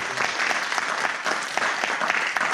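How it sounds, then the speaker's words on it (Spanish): A church congregation claps with rhythmic, uneven bursts, a lively crowd applauding close by throughout. "Denle un aplauso a Cristo"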